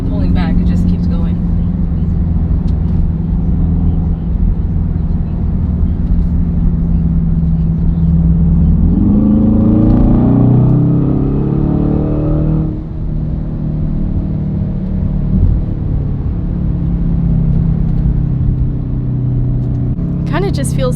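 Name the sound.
sports SUV engine accelerating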